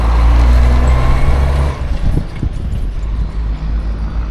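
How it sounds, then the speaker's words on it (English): A day cab truck idles with a loud, steady low rumble that drops off after about two seconds into a quieter mix of engine and knocks. "That's one of my favorite trucks too that we have."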